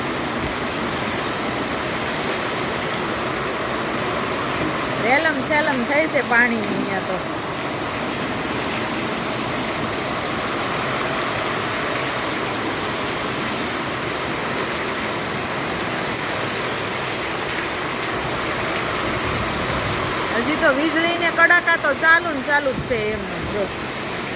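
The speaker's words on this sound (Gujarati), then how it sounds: "વરસાદ પડે છે અને અવાજ એટલો જ આવે છે પવન એટલો છે વાવાઝોડું હોય ને એ રીતના" Heavy rain driven by a strong wind storm over Asodar village, a steady dense roar of falling water and gusts throughout, with brief voices rising near the start and near the end.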